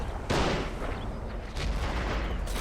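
Gunfire in the World War II strategy game Men of War: Assault, with paratroopers fighting heavy tanks: loud booming shots with rumbling tails, one near the start and another about a second later, over steady battle noise.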